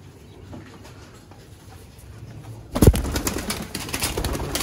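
Sialkoti pigeons coo nearby amid rustling and fluttering, faint at first and then growing louder and busier after a sudden burst partway through.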